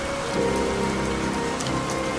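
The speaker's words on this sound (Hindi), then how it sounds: "बारिश इतनी तेज थी कि हाईवे पे कुछ दिख नहीं रहा था" Heavy rain pours down steadily, a dense close hiss of drops drumming on a surface with no break.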